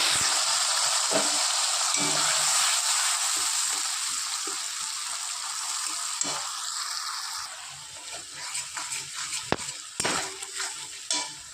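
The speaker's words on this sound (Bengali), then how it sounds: "ভালো করে মশলা আমি কষিয়ে নেব" Spice paste of onion, garlic, green chilli and tomato paste with black cumin frying in a pan, a steady loud sizzle with intermittent stirring scrapes and utensil knocks that grow more frequent toward the end.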